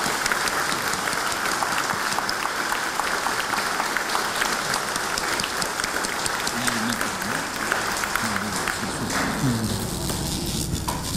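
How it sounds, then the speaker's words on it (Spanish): Sustained, dense applause from an audience welcoming a cardinal at a conference, steady throughout, with a voice briefly audible near the end. "Pues recibimos a nuestro cardenal con fuertes aplausos."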